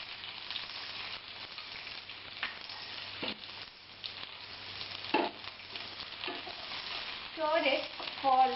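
Chopped garlic fries in olive oil in a pan for pasta in white basil sauce, giving a faint, steady sizzle with occasional crackles and stirring knocks that grow slightly busier toward the end.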